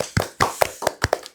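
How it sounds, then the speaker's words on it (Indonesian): A few sharp hand claps in an uneven run, close and dry, from a small group or single person during a school podcast recording, with short gaps between claps and no talk. "Tepuk tangan dulu dong."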